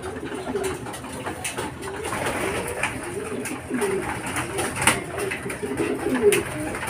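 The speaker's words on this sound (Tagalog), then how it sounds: "Yan sila mga kalapatids." Racing pigeons at the Baluarte Loft coo softly and repeatedly in low rolling calls, with wing flutters and light clatter around them, close and steady throughout with no talk.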